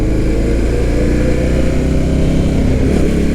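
A 2019 Indian FTR 1200 motorcycle is ridden along a road, its engine a steady loud, close rumble with a deep throaty drone throughout.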